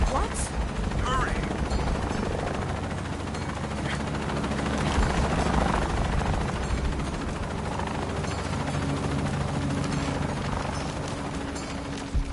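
Helicopter rotor drone in the Shadow of the Tomb Raider Definitive Edition video game, a steady loud churning roar throughout, mixed with sporadic gunfire bursts and game noise.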